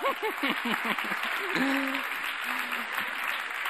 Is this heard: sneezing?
no